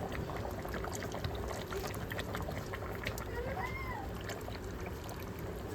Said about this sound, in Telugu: చింతపులుసు పోసుకోవాలి